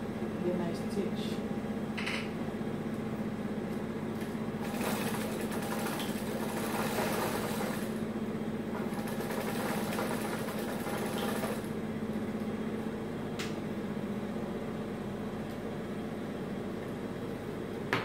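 Sewing machine stitching the facing of a trench coat, a steady mechanical whir running under close talk throughout, with a brief louder stretch in the middle.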